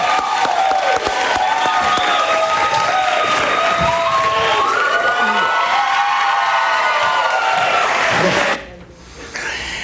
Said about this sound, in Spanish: Sí, un aplauso para Erika